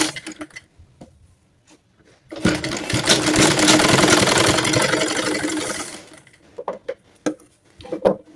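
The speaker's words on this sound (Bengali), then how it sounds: "এখন এই পাশ থেকে সেলাই শুরু করব।" A sewing machine stitches fabric for a baby frock in one steady, loud run of about three and a half seconds, with soft clicks and handling taps before and after.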